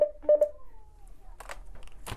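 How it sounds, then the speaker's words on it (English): Telephone at a support helpline sounding a few short electronic tones in quick succession, followed by faint rustling and clicks as the call is picked up. "when that phone rings, we answer."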